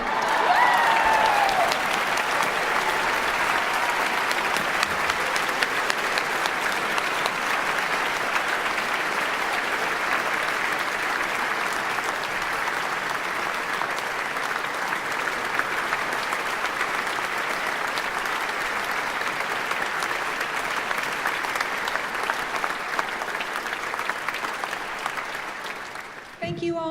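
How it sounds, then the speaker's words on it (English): A large audience at a singing competition finals claps and cheers in sustained, thunderous applause for nearly half a minute, a dense steady roar that holds its level before tapering slightly at the very end. "your huge thunderous applause"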